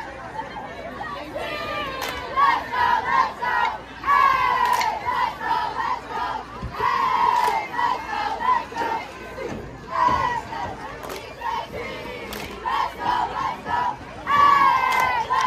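Cheerleaders and a crowd chant and shout together at a school football game, loud rhythmic yelling in bursts with crowd chatter around it, close by.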